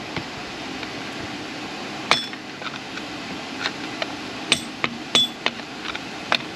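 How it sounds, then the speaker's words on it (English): Screwdriver prying a bearing out of an LT1 engine block during disassembly, giving a handful of sharp metallic taps and clinks spread irregularly over a quiet background, fairly close and with no talking. "we're going to use a screwdriver here, and just pop it out."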